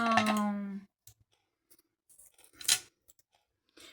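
Old scissors snip through craft material in a few short, crisp cuts with quiet gaps between them, close up, after a brief burst of voice at the start.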